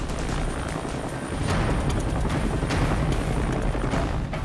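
A rescue helicopter in a high hover drones loudly and steadily nearby, its rotor wash a broad continuous roar with faint rhythmic thumping.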